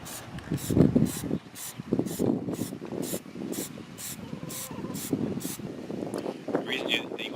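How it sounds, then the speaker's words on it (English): An aerosol can of Plasti Dip rubber coating sprays in a series of short, rhythmic hissing bursts, close by, onto an electric unicycle's outer ring while someone talks underneath. "spraying is so you don't have a glob of Plastidip or paint that runs"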